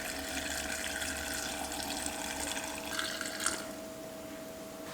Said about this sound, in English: Alright, I'm gonna pour in my brine now.